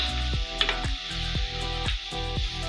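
A plantain pizza topping sizzles gently in a pan as a spoon stirs it in a steady repeating rhythm. The strokes are close and clear, with no talking over them.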